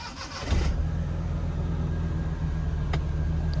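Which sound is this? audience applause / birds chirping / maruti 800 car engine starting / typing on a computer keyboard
maruti 800 car engine starting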